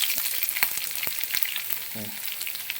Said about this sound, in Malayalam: കടുക് പൊട്ടി വരുന്നു ഇതിനകത്തോട്ട് നമുക്ക് ചുവന്നുള്ളി അരിഞ്ഞിട്ട് കൊടുക്കുക